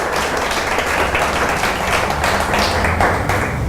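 Church congregation clapping together in praise, a broad sustained wash of many hands applauding at steady loudness with no talk over it.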